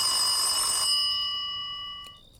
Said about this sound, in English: Then the phone rang, and Jenkins picked it up.